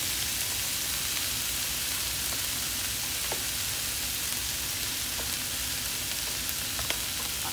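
Garlic frying in a hot pan with oil, a steady dense sizzle and crackle throughout, close and even, with a few small pops and no talking.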